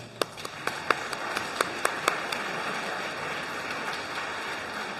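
A few scattered hand claps ring out from an audience at an annual general assembly, sharp individual claps over the first two seconds before fading into a quiet room hum.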